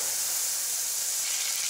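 Garlic-onion paste hits hot oil for pav bhaji, giving a loud, close, steady sizzling hiss that holds without pause.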